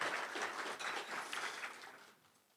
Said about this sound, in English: Let's give them a round of applause for helping us out with this.